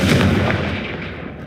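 A Confringo spell blast in the Hogwarts Legacy video game erupts as one loud, booming explosion that rolls out and slowly decays over about a second and a half, with no voices.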